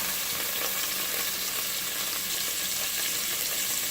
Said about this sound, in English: Now to the pot, I'm going to add just about 2 tablespoons of butter.